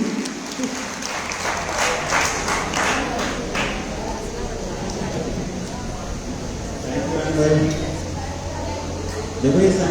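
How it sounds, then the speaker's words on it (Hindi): A seminar audience applauds to welcome a speaker, dense continuous clapping from a sizeable crowd, loudest at the start and swelling again near the end, with voices mixed into the noise. "एक बार जोरदार तालियों के साथ स्वागत करेंगे मिस्टर गौरव सिंह"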